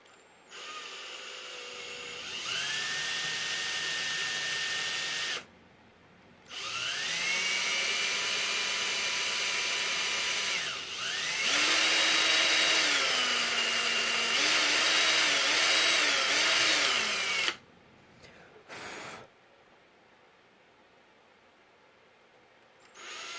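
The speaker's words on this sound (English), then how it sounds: "get your drill, drill 2 holes into the front of it" A power drill whirs in several long bursts, drilling two holes in a DIY spot welder, its pitch dipping as it bites into material, separated by short pauses of quiet.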